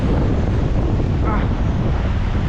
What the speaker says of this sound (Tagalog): medyo humihina hangin